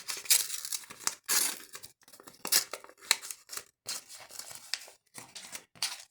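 Paper surprise packets being torn and cut open by hand, a series of quiet close crinkly rips and snips coming in short bursts with pauses between them.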